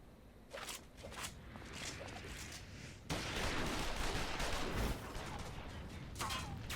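Repeated gunfire in Final Fantasy XIV Stormblood, a dense volley of loud shots that swells and holds over several seconds, with a few sharper cracks near the end and no talk over it.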